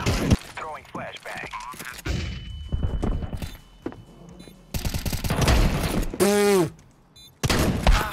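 Gunfire from a second-round T-side weapon in Counter-Strike 2, with sharp close shots and short bursts broken by pauses, plus brief voice and game sounds.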